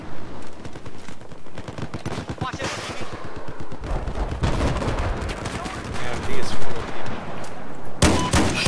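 Bursts of automatic and single-shot gunfire in a Battlefield 4 Conquest match, rapid rattling volleys and sharp cracks mixed with explosions, with players talking over the action.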